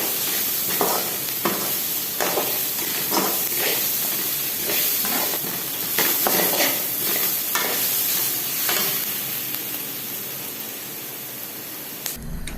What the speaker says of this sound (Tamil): 2 ஸ்பூன் இஞ்சி பூண்டு பேஸ்ட்டு சேர்த்து நன்றாக வதக்கிக்கலாம்.